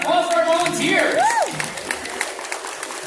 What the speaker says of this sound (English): Have a round of applause for our volunteers!